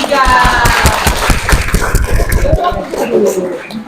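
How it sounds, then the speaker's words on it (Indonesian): Students in a classroom clap for group 3, loud uneven clapping close to the microphone that thins out toward the end, with voices and laughter mixed in. "kasih tepuk tangan untuk kelompok 3"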